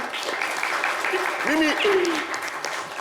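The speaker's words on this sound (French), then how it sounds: "Mimi, on peut applaudir pour Mimi." Audience applause in a French radio-TV studio for a guest named Mimi, a steady crowd clapping mixed with voices talking over it throughout.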